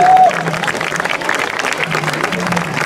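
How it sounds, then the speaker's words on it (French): A crowd claps for a dancer called up at a Breton dance competition results ceremony, steady applause throughout with faint voices and a brief musical tone at the start. "Allez, on l'applaudit."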